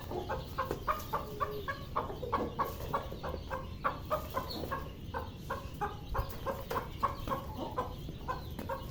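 A hen clucks with a steady string of short, rhythmic clucks repeating about twice a second, fairly faint against a low background hum, with no talk.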